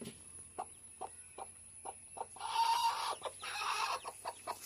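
Hen clucking in a series of short, evenly spaced calls, with a louder burst of fowl noise midway, around a newly hatched chick; no talk.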